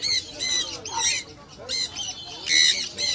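A one-year-old male pet bird at a Sunday bird market in Serampore gives a series of loud, shrill squawks in repeated bursts, close by, with faint market chatter underneath.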